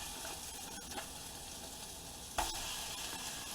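Hot sausage frying in a pot over medium-low heat gives a steady, quiet sizzle with a few scraping stir sounds and one sharper clatter partway through.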